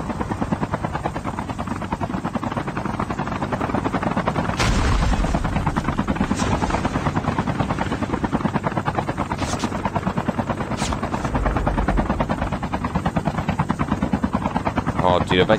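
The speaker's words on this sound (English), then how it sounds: "Chopper." A helicopter in Call of Duty: Mobile thumps with rapid rotor chop throughout, loud and steady. Bursts of gunfire and a player's voice break in over it.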